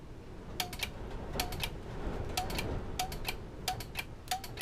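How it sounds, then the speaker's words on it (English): The fan relay near the battery of a 1991 Toyota Celica GT clicks repeatedly, sharp paired ticks about once a second at close range over a low background hum. "It's one of the fan relays that's clicking, so there's power getting through there."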